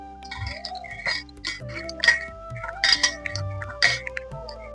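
Whole raw green mangoes rinsed in a bowl for murabba, giving repeated clinks and light knocks against the bowl with soft water sloshing, close and moderately loud, no talk.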